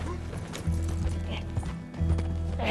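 Horse hooves clip-clop in a steady rhythm as a horse pulls a coach in the video game Red Dead Redemption 2, with the rolling rumble of the coach underneath and a brief snort.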